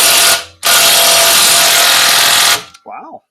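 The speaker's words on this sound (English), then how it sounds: "or in this case, impact gun and socket" Impact gun with socket removing a tight bolt from a pull start housing, a short burst then a loud sustained hammering whir for about two seconds, followed by a brief voice.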